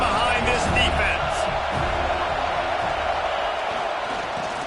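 A stadium crowd in a college football video game, Florida State against Texas, roars steadily behind the defense on a big third down, a broad sustained wash under a commentator's voice.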